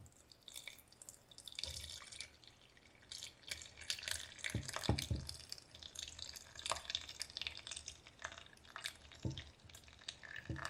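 Warm homemade mulberry juice poured through a strainer, a faint trickling and dripping of liquid with light splashes and a few soft knocks, steady over about ten seconds with no talk.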